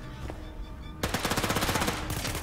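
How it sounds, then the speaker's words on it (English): Automatic gunfire erupts in the zombie co-op shooter Overkill's The Walking Dead, a fast regular burst of loud cracks that breaks in sharply after a quieter stretch of in-game ambience and keeps hammering for over a second. "I hear much gunshots."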